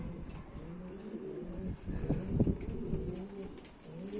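Bayburt pigeons, a deep-voiced breed, give low rolling coos close by, swelling to a louder burst midway over a faint steady background.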